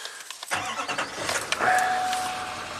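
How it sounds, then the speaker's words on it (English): A 2013 GMC Sierra 2500HD with a Duramax diesel engine cranks and fires, its starter whir rising into a steady, close engine run that settles to an idle with a faint whine, no talking. "fire this thing up, take it for a test drive"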